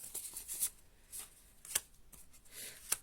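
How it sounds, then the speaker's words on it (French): Tarot cards shuffled and drawn by hand: soft, papery riffles and slaps come in uneven bursts with a few sharper snaps, all quiet and close. "Allez, je retire encore quelques cartes."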